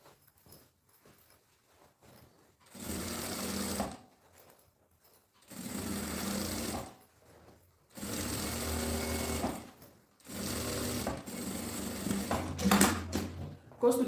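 A sewing machine stitches a seam in four bursts of close, rapid mechanical whirring, each lasting a second or two, separated by quiet pauses.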